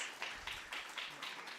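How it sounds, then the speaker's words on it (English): Audience applause at a poetry festival, a soft steady patter of clapping with several louder swells, fairly distant and fairly quiet. "Can we have a big round of applause for Mr."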